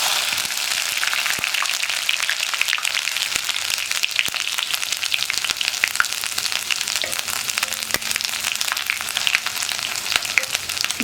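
Crushed ginger and garlic frying in hot oil with mustard and fennel seeds for a tomato potato curry, a steady dense sizzle with fine crackles that holds at an even level throughout, close and loud with no talking.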